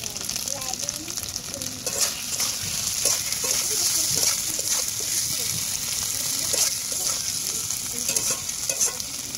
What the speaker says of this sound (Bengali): তো এবার ভেজে রাখা আলুগুলো দিয়ে দেবো। তো এটা মশলার সঙ্গে ভালো করে কষিয়ে নেবো।